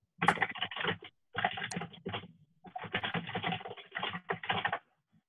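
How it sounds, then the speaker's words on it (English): Rapid, furious typing on a computer keyboard, a dense stream of close key clicks in several bursts separated by short pauses, with no talking. "We can hear Anthony furiously typing."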